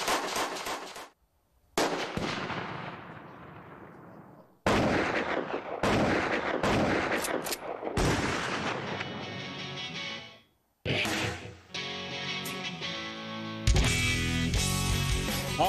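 Repeated loud gunshots ring out on an outdoor firing line at a private ranch gun range in Missouri, coming in sharp bursts separated by brief pauses, with no talking.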